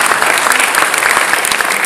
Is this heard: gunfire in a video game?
no